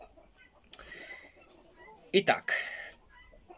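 A hen and rooster in a backyard poultry flock give a few short clucks close by, with quiet surroundings between them and a brief spoken remark over one of the calls.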